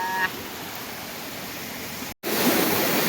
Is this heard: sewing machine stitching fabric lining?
no